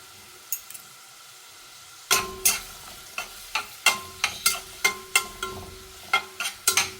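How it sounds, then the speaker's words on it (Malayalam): Chicken for Nadan chicken curry, about a kilo with two small onions, sautéing in a pan: quiet at first, then a run of regular scraping stirs with sizzling, close and clear, with no talking. "അത് മുരിയട്ടെ, നല്ലോണം മുരിഞ്ഞ് കഴിഞ്ഞു."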